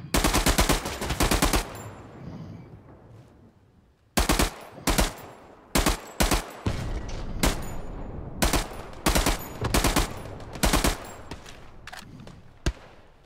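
Video game machine gun fire rattles in loud, close bursts of rapid shots, separated by short pauses and echoing decay, with heavy repeated volleys throughout.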